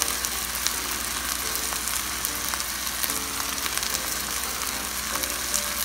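Pork sisig sizzles in a hot pan with liver, brain, salt and pepper added, a steady close crackling fry with faint stirring scrapes and clinks throughout.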